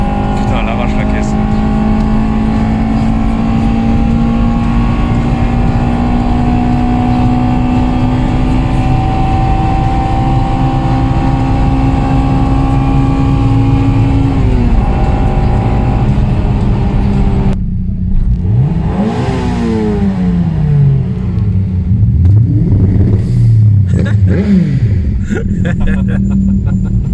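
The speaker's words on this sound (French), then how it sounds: "On va se faire une petite axelle avec la Subaru à Romain." Hard acceleration from a Subaru at a Japanese car meet, engine pitch rising steadily then dropping at a gear change before climbing again, loud and close, with people talking over it.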